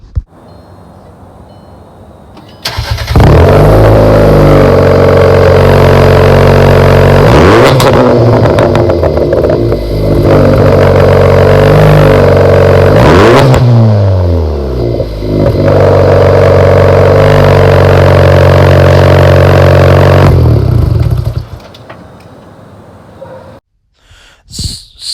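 A Volkswagen MK6 Jetta 1.4 TSI with a welded exhaust revs loudly and close, rising and falling through several sharp throttle blips over a steady idle, then settles back to a quieter idle.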